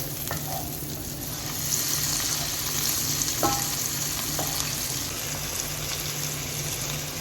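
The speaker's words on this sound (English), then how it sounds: "we're just going to stir everything together" Ingredients for Jamaican steamed fish sizzling in a hot pan as they are stirred together, a constant hiss with occasional clicks and scrapes of the utensil, close and even, no voices.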